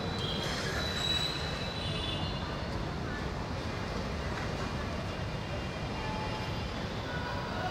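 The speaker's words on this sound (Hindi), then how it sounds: "अभी हम रेलवे स्टेशन जयपुर जंक्शन पर हैं।" Train at Jaipur Junction railway station, with a continuous rumble of rolling wagons and metallic wheel squeal, fairly distant and steady over station background noise.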